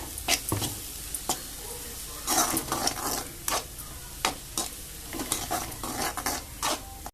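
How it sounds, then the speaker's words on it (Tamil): Chopped onions sautéing in a pan for paneer gravy, with a stirring utensil scraping and tapping the pan in repeated strokes over a soft background sizzle, close and moderately loud. "வெங்காயம் நல்லா வதக்கிக்கணும்"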